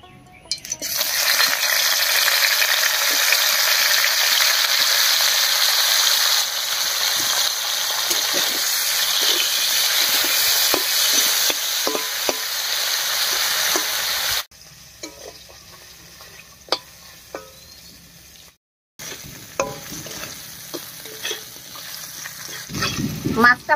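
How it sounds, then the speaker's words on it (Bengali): Dried fish sizzles loudly in hot mustard oil in a wok, a dense steady crackle lasting a long stretch, then quieter sputtering broken by clinks and scrapes of a spatula stirring. "তেল গরম হয়ে গেছে, এবার শুটকি মাছটা দিয়ে দিচ্ছি।"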